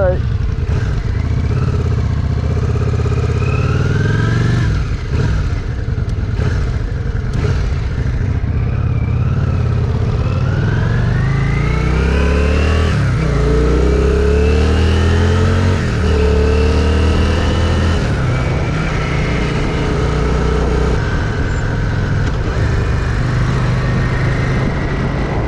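Yamaha Virago cruiser motorcycle with a deep, throaty engine, loud and close, revving repeatedly with rising and falling pitch before pulling away under steady throttle.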